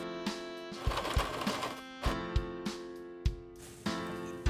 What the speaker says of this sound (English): you just want to put it into your sewing machine, like I said, and do a back stitch essentially